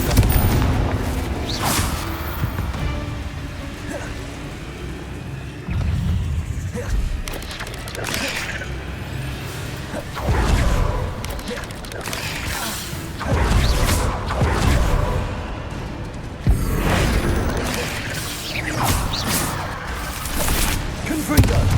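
Repeated booming blasts and crashes from the Confringo spell in Hogwarts Legacy during a fight with spiders in the Map Chamber, several heavy impacts spread across a dense, noisy combat mix.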